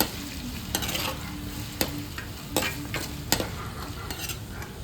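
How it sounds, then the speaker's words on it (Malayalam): Garlic and ginger sizzle steadily in a pan while a spoon stirs them, with several sharp scrapes and clinks against the metal at irregular intervals, all close up. "ഈ ഇഞ്ചിയുടെയും വെളുത്തുള്ളിയുടെയും പച്ചമണം മാറുന്നവരൊന്ന് നമുക്കൊന്ന് ഇളക്കി കൊടുക്കാം"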